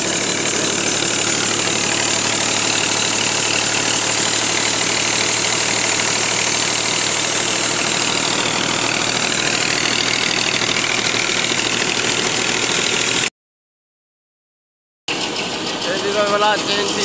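A tractor engine running at idle, a loud, steady mechanical drone with a constant hum, continuing unbroken before a brief dropout and then resuming.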